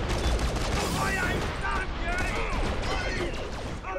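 Dense, continuous bursts of rapid gunfire and clattering effects fill the soundscape of the video game Borderlands: The Pre-Sequel, loud and busy, with someone talking in Russian over the shooting.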